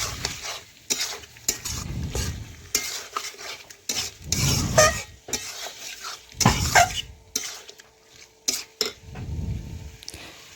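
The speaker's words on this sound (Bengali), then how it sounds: "এইভাবে বেশ কিছুক্ষণ ধরে নাড়াচাড়া করতে করতে দেখুন অনেকটাই চিকেন রান্না হয়ে গেছে।" Chicken sizzles and fries in a pan while a utensil scrapes and stirs it in repeated bursts, with metallic clinks against the pan between quieter stretches of frying.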